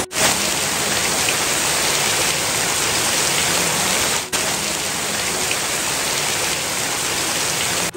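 Steady, dense rain pours down in Kokan, a loud unbroken hiss throughout with a brief break partway through.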